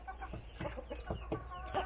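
A chicken clucks in a few short bursts, fairly faint, against a steady low background hum.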